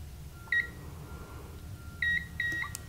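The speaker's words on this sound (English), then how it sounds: "So we're going to hold down the hold menu for 3 beeps," Three short electronic beeps from a 640 device keypad while its hold menu key is held down, clear and evenly spaced over a low steady background hum.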